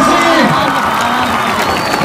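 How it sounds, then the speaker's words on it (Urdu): A large crowd at an Imran Khan political rally in Bhakkar, Darya Khan, cheers loudly and claps, with whoops and shouts rising together in a close, dense burst. "سب ان کے لیے مل کے تالیاں"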